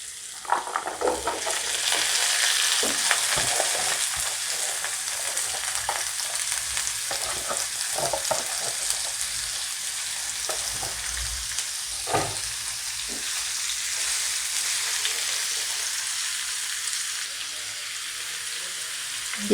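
Sweet pumpkin and chopped green chilli fry in a pan with a steady, loud sizzle, broken by scattered scrapes and clinks of a spatula stirring through it.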